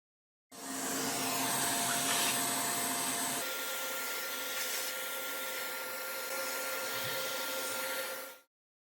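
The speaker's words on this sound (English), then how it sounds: "Clear dust from the shell, paying attention to ventilation holes." Dust being cleared from a PS5 Slim's shell and ventilation holes by a steady, loud blowing or vacuuming rush that runs for about eight seconds, shifting slightly in pitch partway through.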